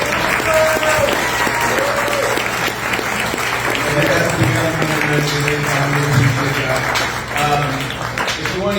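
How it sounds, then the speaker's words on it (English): Audience at a community candidate forum for Jacksonville municipal elections applauding steadily for several seconds, a dense wash of clapping from a room full of people, with a voice speaking faintly over it. "One more round of applause."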